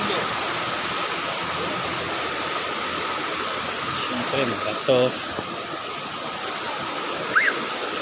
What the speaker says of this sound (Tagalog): Ito ngayon yung ilog.